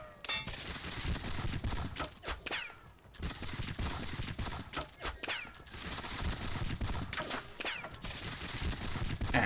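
Musket volleys in a Seven Years War strategy game at the Battle of Zorndorf: repeated crackling bursts of massed gunfire, loud and dense, rising and falling in waves across the whole stretch with brief gaps.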